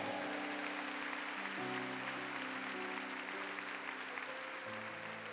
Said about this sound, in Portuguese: uma salva de palmas forte a Jesus